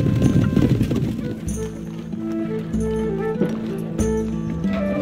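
Horse hooves in the Stronghold 2 video game gallop in a rapid, loud clip-clop rhythm, overlaid with game music and a short burst of horse-related sound effects.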